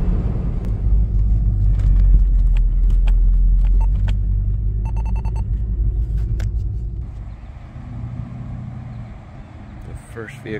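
A Jeep at the Union Mills Jeep Gathering 2023 idles with a deep, steady engine rumble, close by, fading a little toward the end. Voices and faint clinks sound in the background.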